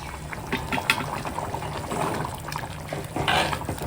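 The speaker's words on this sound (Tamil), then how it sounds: "பாருங்க நல்லா கொதிச்சுட்டு இருக்குங்க" Fenugreek curry boiling in a pot in a village kitchen, giving a steady close bubbling and sputtering simmer with scattered pops, alone without talk.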